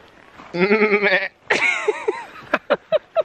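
Goats bleat close by on a trip from the snow to the beach, with a long wavering call, then a second drawn-out cry and a quick run of short bleats, and no talking.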